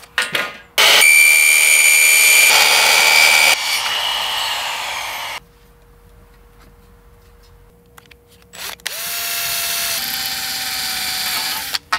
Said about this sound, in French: Préperce à la fraise conique.